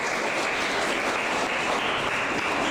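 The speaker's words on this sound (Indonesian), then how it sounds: "kasih aplaus" Applause from an audience at a youth seminar on supporting government programs, a dense, steady wash of clapping that stays loud and even throughout with no voices over it.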